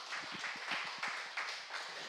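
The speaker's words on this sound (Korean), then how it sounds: "박수 한번 하나님께 다시 한번." A church congregation claps together during a Friday evening worship service, a steady stream of overlapping hand claps with a few sharper peaks, close and fairly loud.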